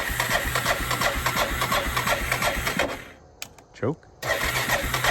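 A 20-year-old ATV engine cranks with rapid rhythmic chugging for about three seconds and stops, followed by a brief clunk. A voice speaks briefly near the end.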